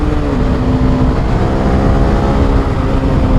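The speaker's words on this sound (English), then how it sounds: "I was twisted all the way back on the throttle, and we are just going nowhere." A CFMOTO 300SS motorcycle held at full throttle in Eco mode, its engine a loud, close, sustained droning whine that climbs only slightly in pitch, with strong wind rumble and no speech.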